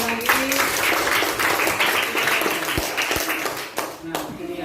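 A class group claps hands in steady, continuous applause during a school lesson, with voices mixed in throughout.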